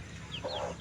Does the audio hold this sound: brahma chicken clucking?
yes